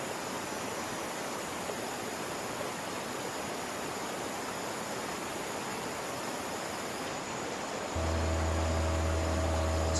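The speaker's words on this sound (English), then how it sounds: "Do let me know if the waterfall's a bit loud." Rushing waterfall in the fishing video game Fishing Planet, a loud steady broadband roar that fills the scene without pause, joined near the end by a low electronic hum.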